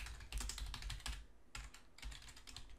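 Bursts of rapid key clatter on a computer keyboard as a Linux package-info command is entered, with a brief pause partway through; close and fairly quiet, no talking.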